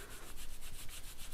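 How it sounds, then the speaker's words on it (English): Needle-felted wool is rolled between the hands, a soft close rubbing swish repeating in quick rhythmic strokes for under two seconds, faint and alone. "now let's do the old trusty roll in the hands."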